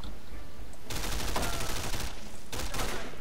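Gunfire in the Men of War Vietnam video game, a dense rattling burst of rapid automatic shots, loud and continuous after a quieter start, with a short gap before another burst.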